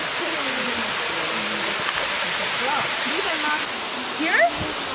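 A waterfall roars as a dense, steady wash of rushing water close by, with voices talking and calling over the constant spray.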